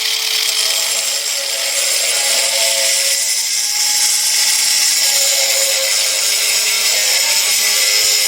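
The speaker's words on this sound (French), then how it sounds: "Donc je vais couper 4 morceaux de plat de 4 cm." A power tool cuts flat metal bar into short 4 cm pieces, producing a loud, continuous high-pitched grinding whine that holds steady close by.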